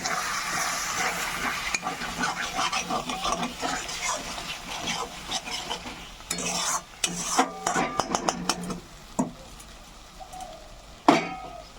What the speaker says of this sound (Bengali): মশলার বাটি দিয়ে একটুখানি জল দিয়ে কষাবো